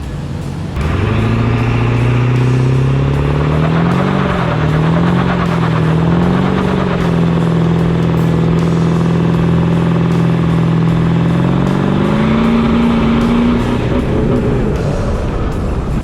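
A 500 hp 7.3 Powerstroke diesel Ford Excursion engine revs hard for a burnout and holds a high, steady roar for several seconds, rising again before the end, loud and close.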